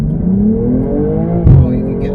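A 2022 BMW M240i in Sport Plus mode accelerates hard from inside the cabin, its engine note rising in pitch through a gear, then dipping briefly at a shift and climbing again, loud and close.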